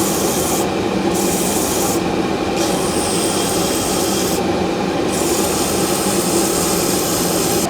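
Steady, continuous rasping of a steel knife blade bevel being ground at an angle toward an octagonal shape, loud and close with an even abrasive texture and no talk.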